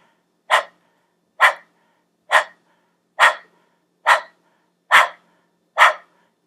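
A person doing a rapid, forceful breathing exercise in imitation of a panting dog: eight sharp, evenly spaced exhales about a second apart, close and clear with silence between them.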